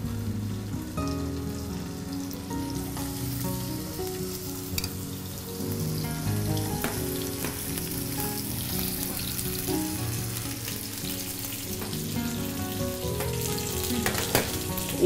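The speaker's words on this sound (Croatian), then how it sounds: "U tavi ugrijemo maslinovo ulje i pržimo ražnjiće." Chicken and vegetable skewers fry in hot olive oil in a pan, giving a continuous close-up sizzle with crackling pops throughout.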